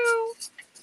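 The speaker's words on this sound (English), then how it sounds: "The kitty's back." A short high meow from a cat, a single tonal cry lasting about a third of a second, close and clear, followed by faint hissy noises.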